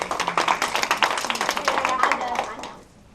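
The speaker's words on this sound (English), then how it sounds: "y'all give Cheryl a big round of applause" Short round of applause for Cheryl at a training meeting, sharp close claps from a modest group that die away, with voices heard among them.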